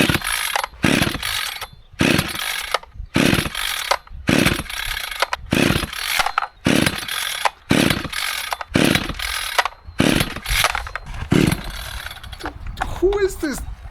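Vevor chainsaw run on fuel with no oil in the gas, pulled repeatedly in a series of loud, evenly spaced bursts, each rasping pull followed by a short gap.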